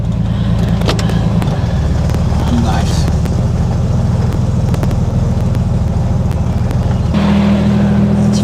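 A 1967 Chevrolet Corvair on a test drive: a steady low engine drone and road rumble heard from inside the cabin, with a brief shift in engine tone near the end and a short spoken word.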